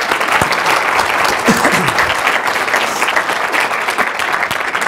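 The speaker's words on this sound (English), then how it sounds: "A round of applause." A webinar event audience gives a presenter a loud, sustained round of applause, many hands clapping steadily and close for about five seconds, with a faint voice briefly audible beneath.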